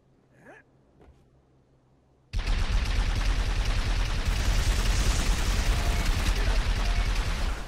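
Turret gunfire in Halo 3 ODST multiplayer Juggernaut, starting abruptly after a quiet moment with a brief voice, then a steady, loud, continuous roar of rapid shots.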